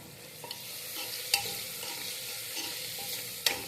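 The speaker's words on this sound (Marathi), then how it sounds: "लाल तिखट टाकल्यानंतर थोडंसं परतून घ्यायचं आहे" Masala rice sautéing in a pan after red chili powder goes in, a continuous bright sizzle with a few spoon scrapes and clicks, close and without talk.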